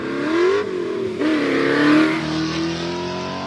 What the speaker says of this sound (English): rotary-powered turbo beast, big aero, really aggressive through the chicane